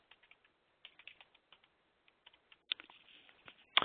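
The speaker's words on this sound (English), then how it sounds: "We type in our login ID and our password" Keys clatter on a computer keyboard as a login ID and password are typed for online banking, giving quiet irregular clicks in short bursts that grow denser and louder toward the end, with no voices.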